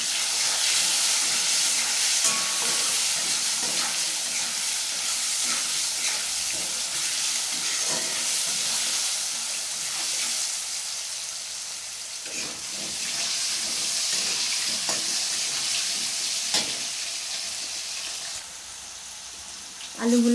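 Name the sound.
potatoes frying with salt and turmeric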